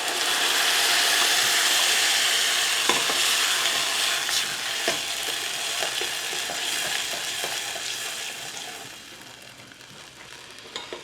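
Kadhi mixture is stirred continuously in a pan, a steady hissing, sizzling wash with scattered scraping clicks of the spoon, fairly close, easing off and growing quieter toward the end.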